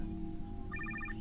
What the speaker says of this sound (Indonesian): Oh, telepon.